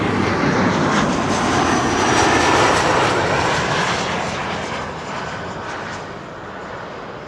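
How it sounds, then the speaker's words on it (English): A KLM Embraer 175 jet, back from Bremen, roars past at Amsterdam Schiphol; a loud, steady engine rush builds slightly, then fades over the last few seconds. "This is KLM Flight 1762, returning from Bremen, an Embraer 175."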